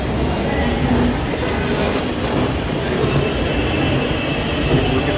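Steady rumbling hum of a metro train running, a continuous broadband roar at constant level with no distinct voices.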